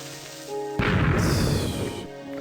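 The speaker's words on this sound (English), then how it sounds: "And the old explosion sound, and thank you for exploding my whole base" An explosion in Beta Minecraft bursts suddenly into a loud, dense, crackling boom that fills the sound and then fades over about a second, with no talk.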